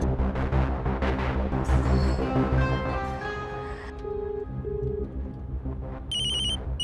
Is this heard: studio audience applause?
no